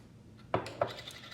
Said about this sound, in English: And give it a quick stir.